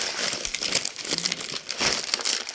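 Crinkling of a plastic bag, close and continuous, with irregular rustling bursts throughout and no talking.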